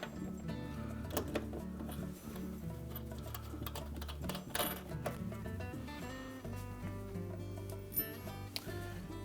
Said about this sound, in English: using our 1/2-inch wrench, we're just going to loosen these retaining nuts